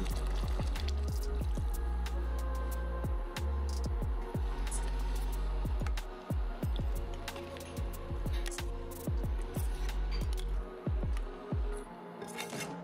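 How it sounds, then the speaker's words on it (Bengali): Coconut milk pours and drips into a simmering Bengali prawn malaikari, wet splashing and bubbling texture running continuously, louder and thicker toward the end. "এবার আমি নারকেলের দুধ দিচ্ছি।"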